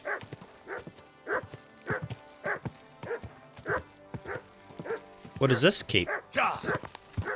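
A dog barks persistently in Kingdom Come: Deliverance 2, with close, regularly spaced barks and a louder cluster near the end, while a person talks.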